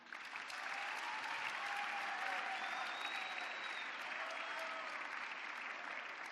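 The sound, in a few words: applause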